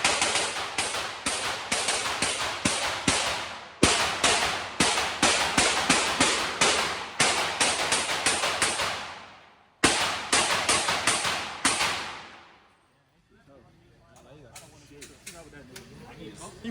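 Rapid gunfire at a shooting range, including an AR rifle, with long bursts of sharp, loud, evenly spaced shots separated by brief pauses, ending in quieter background noise.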